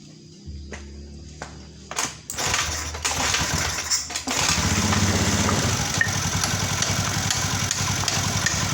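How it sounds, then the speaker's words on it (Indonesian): A Honda Beat scooter with a weak, drained battery is kick-started: a few mechanical clunks and rattles, then the small engine catches and settles into a steady, loud buzzing idle close by. "Jadi saya akan melakukan pengengkolan."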